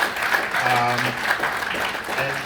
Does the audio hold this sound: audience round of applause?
yes